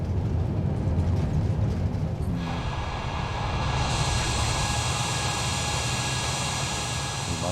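An Air India Boeing 787 Dreamliner airliner departs with a steady, loud engine roar, and a bright rising whine joins the engine noise partway through and keeps going under the continuous rumble.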